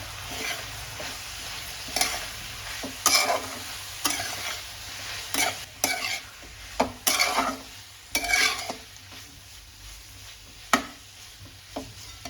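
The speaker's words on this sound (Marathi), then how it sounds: "आणि आता आपण हे परतून घ्यायचं अगदी व्यवस्थित असं" Spiced ridge gourd sautés in a pan with a steady, close sizzle, broken by repeated scraping strokes of a spoon stirring the vegetables.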